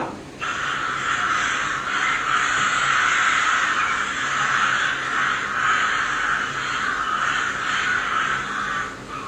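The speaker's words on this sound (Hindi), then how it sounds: "हजारों की तादाद में कौवे एक साथ रहे।" Thousands of crows caw together in a loud, dense, continuous clamor, the overlapping calls forming a steady wall of sound throughout.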